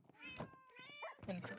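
A cat in the video game Minecraft gives two or three drawn-out, wavering meows in quick succession, clear and fairly close, against a quiet game background.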